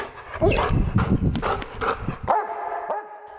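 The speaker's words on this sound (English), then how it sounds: "His bark tells his handler what he's found" A police dog barks repeatedly and close, signalling a find, in a burst of loud, echoing barks that tail off after a few seconds.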